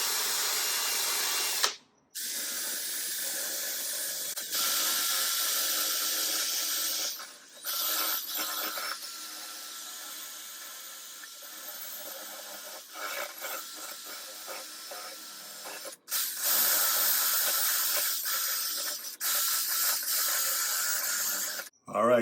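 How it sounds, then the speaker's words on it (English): Brass-coated wire brush scrubbing wet vinegar paste off rusty metal, a harsh, bristly scraping in long continuous strokes with a few brief pauses, close and fairly loud. "we're gonna scrub this wet, moist vinegar paste off"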